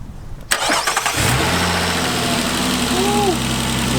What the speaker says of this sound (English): So turn on the car.